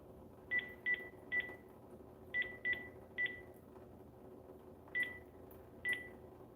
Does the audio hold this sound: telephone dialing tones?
yes